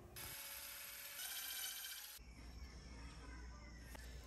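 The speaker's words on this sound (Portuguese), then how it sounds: "Remova também os parafusos de fixação do silenciador." Silencer mounting screws come out of a STIHL MS 382 chainsaw during a workshop repair, heard as a continuous close mechanical whirring and grinding that shifts in tone partway through, faint and with no talk.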